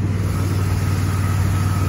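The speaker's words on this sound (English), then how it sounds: "As you can hear, the exhaust is a little loud, even though it does have a new muffler on it." Running 2010 Chevy Impala with a 3500 V6 and a new muffler, its exhaust a steady, loud, low rumbling drone at idle, close and unbroken, with no talking.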